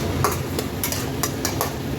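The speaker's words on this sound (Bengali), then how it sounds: "রসুনটা দেওয়ার পরও আমি একটু নেড়ে চেড়ে নেবো" Chopped garlic stirred in a hot frying pan for a restaurant-style pasta: a close, steady sizzle with repeated scraping strokes of a utensil against the pan, and no talking.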